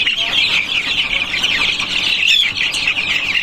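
A dense chorus of chickens and chicks on a poultry farm keeps up constant high chirping and clucking, loud and close, with no break for the whole stretch.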